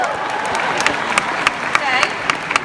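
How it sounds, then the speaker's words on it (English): An audience applauds steadily throughout, a continuous wash of many hands with sharper individual claps standing out, moderately loud and close. "Give them a round of applause."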